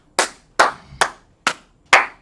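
A single person claps five sharp, separate times at close range with irregular gaps between the claps in an otherwise quiet room during a class.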